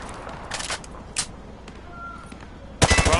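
A rifle fired from the hip in a video game, heard as short scattered shots early on and then a louder, dense burst of rapid rounds near the end.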